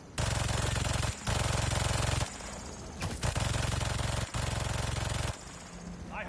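Rapid automatic turret fire in Marvel's Spider-Man 2 rattles out in long, loud sustained bursts, broken by short pauses and a few sharp impacts, with no talk over it.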